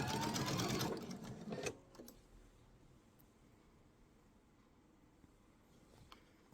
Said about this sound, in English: we're just going to do our 1/4 inch seam